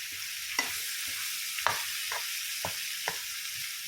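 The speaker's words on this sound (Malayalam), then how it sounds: "ഇനി ഇതെല്ലാം കൂടി ഒന്നുകൂടെ നല്ലതുപോലെ ഇളക്കി യോജിപ്പിക്കാം" Pickle spices with fenugreek and asafoetida being stirred in hot oil for a bilimbi pickle, a soft continuous sizzle broken by several distinct spoon-against-pan scrapes at an irregular rhythm, close and moderately quiet.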